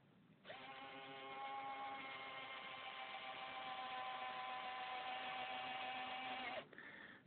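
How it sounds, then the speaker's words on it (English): A Turnigy 80-degree retract landing gear on an Fw190 model runs with no load, giving a steady high electric motor whine with a gear-driven buzz that starts abruptly, holds for about six seconds, then cuts off, close and alone. "I feel that this particular retract is binding and struggling without any load at all."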